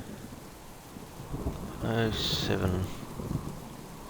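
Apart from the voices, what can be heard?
thunderstorm with rain in video game Subsistence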